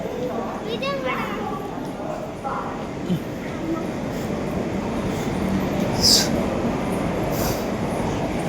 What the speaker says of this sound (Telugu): ఆ ట్రైన్ వెళ్ళిపోయింది అనమాట